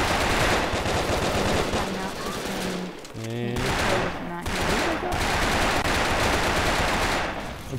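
Rapid automatic gunfire from the Brick Force shooter game rattles almost continuously, loud and dense with a brief lull near the middle, while a voice talks underneath.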